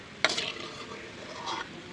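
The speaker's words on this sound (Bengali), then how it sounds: "এইভাবে আমি এক এক করে সবগুলা ভেজে নেব" Puffed rice fritters frying in hot oil, a soft steady sizzle with a sharp burst of spatter near the start and another swell later, close by with no talk.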